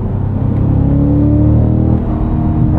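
Engine and exhaust of a 2024 Cadillac CT5-V Blackwing with the exhaust set to track mode, a loud, steady, close-up droning rumble under load, without clearly separate burbling pops.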